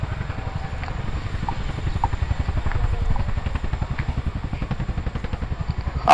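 RAF Chinook twin-rotor helicopter manoeuvring forward and down at close range, its heavy rapid blade chop pulsing steadily and loudly throughout with a rumbling low-end drone.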